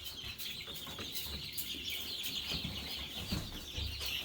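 Chickens in a coop cluck in short, scattered bursts over a rustling background, close by and fairly soft, with no talking.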